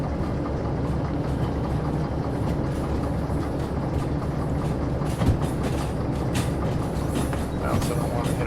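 Train cars roll steadily on rails in the simulation game Derail Valley, a continuous dense rumble with faint clickety-clack and metallic ticks. There is no talk, just the constant rolling noise.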